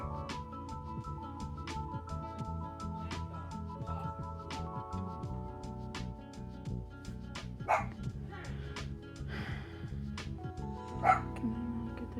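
Dog barking repeatedly in a neighbouring home, a steady series of sharp barks with a few yips, somewhat distant behind a person talking close by.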